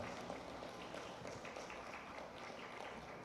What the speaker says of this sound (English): Everyone, please have a round of applause for all the cities who ensured that they could join us today virtually.